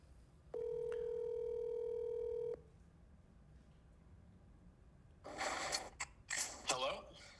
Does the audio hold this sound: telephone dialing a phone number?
yes